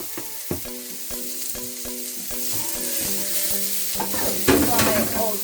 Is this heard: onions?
yes